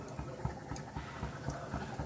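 Jackfruit curry with added hot water and fried fritters comes to a boil in a pan, giving quiet, regular bubbling pops in a soft rhythmic pattern.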